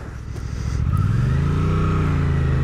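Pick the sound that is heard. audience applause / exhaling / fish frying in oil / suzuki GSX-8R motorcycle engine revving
suzuki GSX-8R motorcycle engine revving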